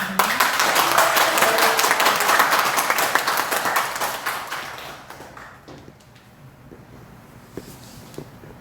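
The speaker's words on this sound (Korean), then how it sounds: "뜨거운 박수로 맞이해주시기 바랍니다." Audience applause welcoming a lecturer to the stage at a talk. Dense clapping is loud at first, then fades over several seconds to scattered claps and a quieter room.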